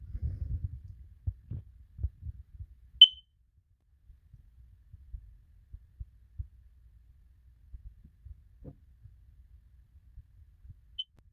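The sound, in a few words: smoke detector beeping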